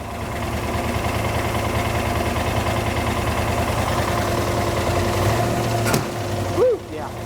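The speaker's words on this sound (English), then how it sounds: "it's doing decent idling. It does all right, but it's still really choppy." An auction racecar engine with a dead cylinder idles steadily but choppily up close, a low uneven throb with a brief sharp noise near the end.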